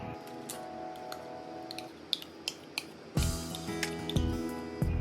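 Prawns stirred with lemon juice, condensed milk and mayonnaise for wasabi prawns, soft wet squishing with light ticks of a utensil against the bowl, close and steady, growing a bit fuller midway.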